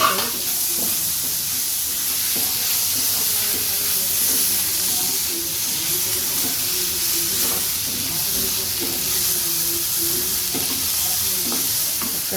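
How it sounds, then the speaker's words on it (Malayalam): Fried onions sizzling in a pan as tomatoes go in, a constant hissing fry with stirring scrapes and faint clinks, steady and close throughout. "തക്കാളി ഇടാൻ പോവാണ്. വെങ്കായം ഫ്രൈ ആയി."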